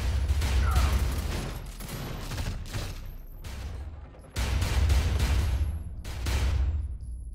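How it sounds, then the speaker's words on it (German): Pistol fire in the video game Fuse rings out in loud, dense clusters of shots separated by brief pauses, punchy and close with little else around it. "Die Pistole hat noch so einen geilen Waffensound"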